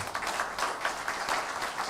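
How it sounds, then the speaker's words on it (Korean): A church congregation claps at a Sunday service, honouring the morning worship team, in a soft, dense, continuous patter that sounds somewhat distant and stays low in level. "큰 박수 한번 좀 보내주세요"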